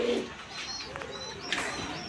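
Homing pigeons at a pigeon market in Kolkata coo softly in a few short, close calls over light background noise, with no talk.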